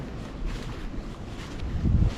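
Steady low rumbling wind buffeting the microphone on a seashore during the cold, windy amihan monsoon season, with a stronger gust near the end.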